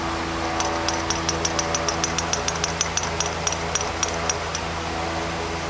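A rare Briggs & Stratton horizontal/vertical mount small engine running steadily with a low droning hum and a quick run of sharp ticking pops, close and fairly loud, with an exhaust fan running nearby.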